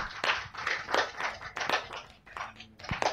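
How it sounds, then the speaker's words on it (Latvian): Studio audience clapping for a comedian guest on a podcast, a short burst of uneven claps with separate close hand slaps that thin out over a few seconds. "Paldies par aplausiem."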